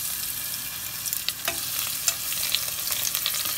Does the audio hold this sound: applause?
no